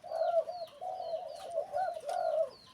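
A dove coos repeatedly in a steady rhythm, soft low calls close by with quiet background behind them.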